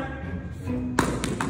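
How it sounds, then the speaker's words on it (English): Bowling pins crashing as a ball strikes them in a 100-pin bowling game: a sharp clattering hit about midway, followed by a couple of smaller knocks over steady background noise. "You only knocked down 66 pins."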